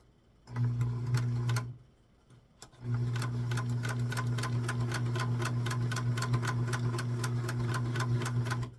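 A sewing machine stitches a seam on a small doll blouse for a 4-inch dress, running in a short burst, pausing briefly, then running steadily with a rapid, even mechanical rhythm, close and clear, with no talking.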